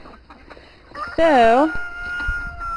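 Chickens and a rooster from a backyard flock cluck and call nearby, with one loud drawn-out squawk rising sharply in the middle, while a person's voice speaks briefly at the start.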